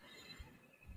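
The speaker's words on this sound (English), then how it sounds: "That noise you can hear is actually zebras calling. That's the sound they make." Zebras call at a wildlife waterhole: a faint, distant braying whinny, two short bursts within about a second, with soft ambient background.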